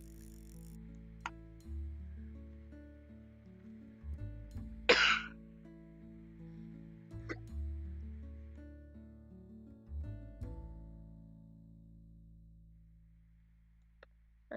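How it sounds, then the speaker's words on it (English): Someone coughs once sharply, with a few faint throat sounds scattered through a quiet stretch that also carries soft synthesized game music and occasional clicks. "My cough is so annoying."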